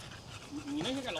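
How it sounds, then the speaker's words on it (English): A small pug pants heavily and rapidly close by, its quick breathy puffs mixed with a voice speaking over it. "It's a little pug and it's puffing away like mad."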